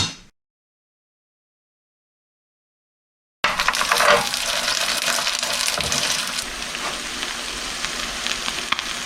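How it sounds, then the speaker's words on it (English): Fish patties sizzle and crackle steadily in hot oil in a pan, a dense, continuous fry noise that starts abruptly after a stretch of silence and holds close and fairly loud. "All right, let's start frying."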